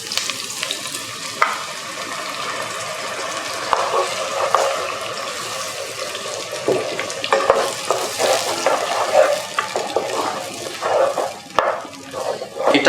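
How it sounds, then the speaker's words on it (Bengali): Curry sauce with tomatoes frying in a pan for jollof rice, steady loud sizzling with repeated scraping stirs and clinks of the spoon, close up and continuous. "এটা একটু ফ্রাই হতে হবে।"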